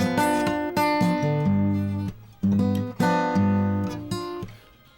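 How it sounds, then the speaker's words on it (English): A flat six chord is voiced as a dominant seventh and played on a keyboard-like instrument in a short sustained progression of several struck chords, close and clear, with no voices and ringing to a soft fade. "But if we make it into a dominant 7th chord"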